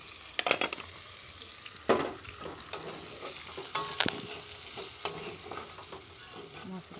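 Chopped onions stir-frying in a pan, a soft continuous sizzle broken by sharp spatula scrapes and clacks at irregular intervals, close by with no talking.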